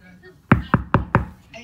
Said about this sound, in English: I'm gonna knock now